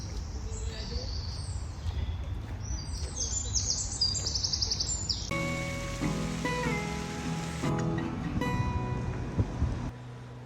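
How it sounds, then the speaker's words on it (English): Birds chirp and trill in the open air of a park over a low background rumble, with a brief burst of tonal chimes partway through. "You can hear all the birds."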